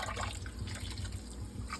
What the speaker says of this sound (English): About a half a beer.